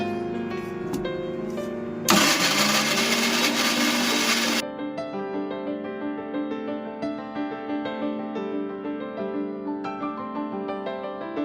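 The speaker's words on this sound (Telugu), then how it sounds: "రెండు ఉల్లిపాయ గడ్డలను మనం ఒకటిలో 4 చేసుకొని గ్రైండ్ చేసుకోవాలి" A mixer grinder chopping quartered onions, a loud broadband whirring burst for about two seconds, with steady harmonic background tones before and after.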